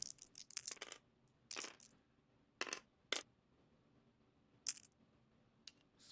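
Two dice clattering during a tabletop miniatures game, sharp clicky rattles in several brief bursts separated by quiet gaps, fairly faint and close.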